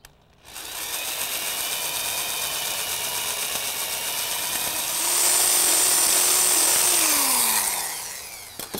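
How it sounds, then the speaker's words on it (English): A power drill bores a hole through a bamboo tube for a shishi odoshi, its motor whining steadily and close before rising in pitch and loudness, then winding down as it stops. "The next step is to drill a hole through it so that we can insert another piece of bamboo"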